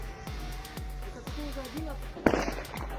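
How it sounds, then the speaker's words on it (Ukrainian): Explosions at Russian airfields heard from a distance: a series of dull booms and pops, with one sharper burst near the end, under a continuous low rumble while a person talks. "Ой, смотри, новый взрыв."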